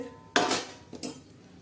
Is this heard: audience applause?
no